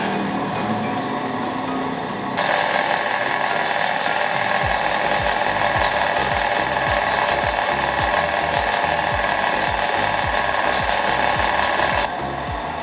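Electric mixer running at its first speed, churning cement mortar for a compressive strength test: a loud, steady motor whine starting after a couple of seconds and lasting about ten seconds, with rhythmic clacking underneath, then cutting off.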